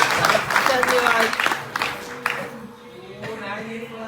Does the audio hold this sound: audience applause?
yes